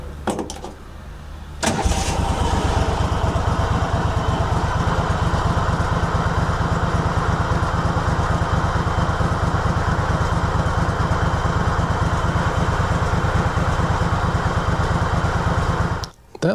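Kohler Command engine on a Craftsman GT5 garden tractor, running slightly rough with a weak left cylinder after a head gasket replacement. It starts up abruptly and then runs steadily and loudly close by with a pulsing, throbbing beat before cutting off.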